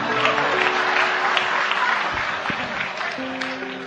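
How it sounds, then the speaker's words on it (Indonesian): Audience applause fills the space at a religious gathering, a dense, steady clapping that holds at a fairly loud level with a faint sustained tone underneath. "Tepuk tangan, tepuk tangan."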